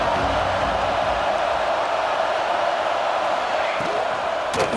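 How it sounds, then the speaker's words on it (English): A packed stadium crowd roars continuously at a USC versus Michigan college football game, a dense, steady wall of cheering and noise held at constant loudness throughout. "This crowd ready to make its presence known."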